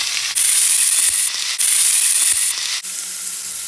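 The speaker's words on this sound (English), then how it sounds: "Flip them over and over until cooked." Food frying in a hot pan while being flipped over and over, giving a loud, close sizzle in long bursts separated by brief dips as the pieces are turned.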